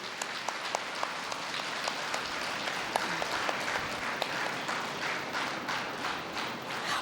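An audience at an anniversary gathering breaks into applause, a dense patter of many hands clapping steadily throughout, fairly even and unbroken, with no speech over it.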